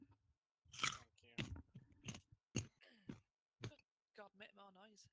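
Someone crunches on a raw carrot close to the microphone, with several sharp bites and chewing bursts spread across the moment, mixed with throat sounds and a little breathy noise, quiet overall.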